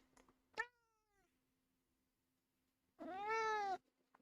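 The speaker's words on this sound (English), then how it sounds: "the second meow was good" Two distinct meows from a cat indoors, the first short and falling, the second longer, louder and more drawn out, with quiet low hum between them.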